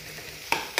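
Capsicum stir-fried in a pan with garlic, green chili and asafoetida, giving two short bursts of sizzling and scraping over a quiet background.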